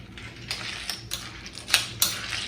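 A spoon stirs chocolate chips and heavy cream in a microwave bowl, giving a run of quick, sharp clinks and scrapes against the bowl, close and fairly quiet, with no talking.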